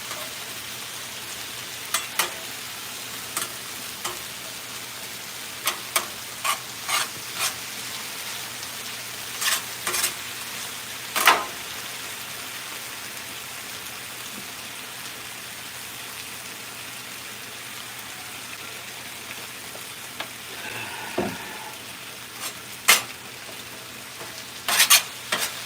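Potatoes and squash frying on a Blackstone griddle, a steady close sizzle throughout, broken by scattered sharp scrapes and taps of a spatula on the hot steel.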